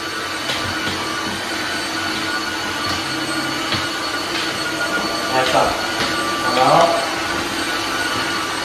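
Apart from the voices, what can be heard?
Tineco Floor ONE S7 cordless wet-dry vacuum running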